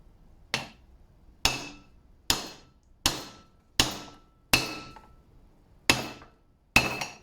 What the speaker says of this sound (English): before I wallop it with a hammer